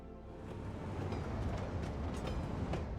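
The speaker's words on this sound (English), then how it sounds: "That train just blew through here." A train passes through a central station in the city-building game Cities Skylines 2, a steady rumbling roll with faint rail clatter swelling slightly and holding for a few seconds, no voices.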